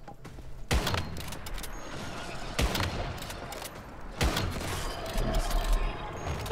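Gunfire in the survival shooter Once Human: three sharp, loud shots spaced a couple of seconds apart, each standing out against continuous rattling combat noise and ambience.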